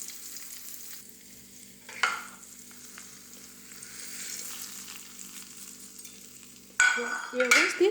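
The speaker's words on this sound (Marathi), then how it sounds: "व्यवस्थित हलवून मिक्स करून घ्यायचं आहे" A spoon mixes a raw cucumber salad with finely chopped green chilli and curry leaves: soft rustling and stirring under quiet room noise, with a brief scrape early on and a louder burst of mixing and scraping at the end.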